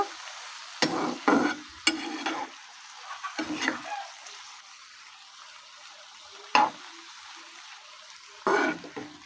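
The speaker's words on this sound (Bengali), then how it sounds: "ডিমটাকে ভালোভাবে নেড়ে চেড়ে ফুলের সঙ্গে মিশিয়ে নিব" Egg being stirred and fried together with pumpkin flowers in a pan, a series of scraping spatula strokes over a soft, steady sizzle, bursts spaced irregularly with quieter gaps between.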